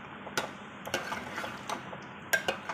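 A spoon gently mixes green masala paneer with ground garam masala in a pan, producing scattered light clinks and scrapes against the metal over a quiet background.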